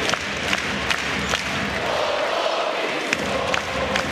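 A yellow-clad home crowd at a Maccabi Tel Aviv basketball game roars and chants at a moderate distance, a sustained wall of cheering with sharp whistles and shouts cutting through at intervals.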